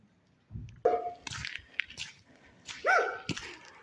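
A dog barks a few times in quick, sharp bursts, fairly close, guarding its yard in drizzling rain, with crunching sounds between the barks.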